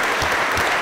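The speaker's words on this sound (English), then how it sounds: "Let's give a round of applause to our Lord Jesus Christ" Brief burst of dense congregation applause at an Easter Vigil church service, even and sustained with no voices on top.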